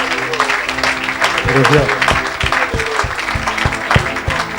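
Church event audience clapping and cheering in a crowded hall, steady applause mixed with shouts and a rhythmic beat, while a voice speaks over it.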